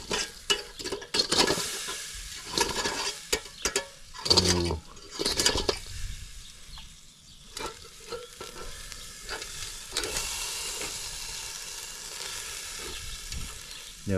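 Smoked pork chops being moved around on a charcoal grill, with clattering handling bursts early on and a sizzle that carries on underneath, then settles into a quieter crackle.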